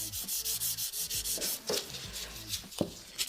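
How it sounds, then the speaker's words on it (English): A 120 grit buffer rubs back and forth over a gel nail top coat, a rhythmic run of soft, close scratchy strokes, steady at first and then slower and more irregular, with no talking. "So you're just smoothing a little bit. This is a 120 grit buffer."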